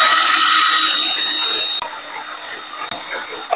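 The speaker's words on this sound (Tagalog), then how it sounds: "Lagyan lang natin ng langis ang liha. Tapos hasain lang natin ito." Oiled sandpaper rasps steadily against a small electric fan part being sharpened, a continuous gritty scraping that eases slightly after the first couple of seconds, with a few sharp clicks toward the end.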